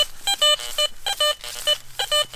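Metal detector with iron audio switched on, sweeping over mildly mineralised ground with flanking iron: short, clipped electronic beeps in quick irregular bursts, fairly loud and close, with no talking.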